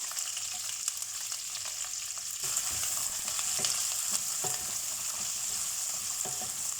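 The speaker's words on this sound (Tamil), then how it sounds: "வெங்காயத்தை லேசாக வதக்கிட்டு நம்ம எடுத்து வச்சுருக்கிற தக்காளியை சேர்த்துடலாம்" Onion sautéing in hot oil with cinnamon, cardamom and bay leaves for paneer butter masala, a continuous close sizzle with occasional stirring scrapes and no voices.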